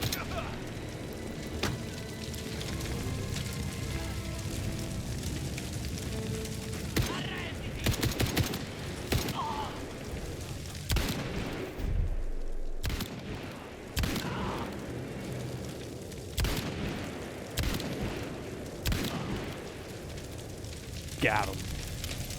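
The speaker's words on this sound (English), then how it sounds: "I'm forced to just shoot all these people." In the video game Indiana Jones and the Great Circle, enemies are shot. Sharp gunshots and short volleys crack out irregularly over a dense, continuous background rumble, and voices may be present.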